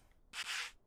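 Sanding of a wooden item in the game Workshop Simulator: a single short burst of dry, hissy abrasive rubbing, close and fairly loud, starting and stopping abruptly.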